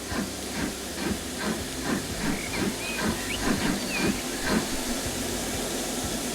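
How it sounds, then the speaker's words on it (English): Steam locomotive in the Transport Fever 2 railway game hissing steam in a steady broadband rush, with repeated rhythmic chuffs and faint whistle-like squeals layered over it, moderately loud and without talk. "Oh, okay. It's waiting for another train."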